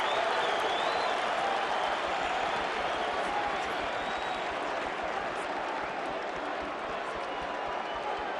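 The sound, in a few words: boxing arena crowd applauding veterans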